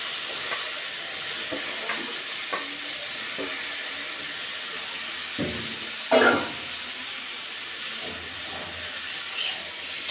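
Palta stems, potatoes and four green chillies frying in hot oil give a steady soft sizzling hiss, with occasional louder crackles and stirring clinks against the pan, no voices heard.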